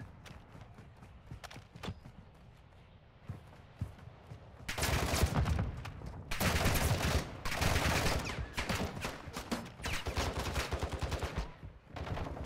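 Gunfire in a Call of Duty DMZ match on Ashika Island: sparse distant shots at first, then loud bursts of rapid automatic fire in several sustained volleys with brief gaps, close and intense.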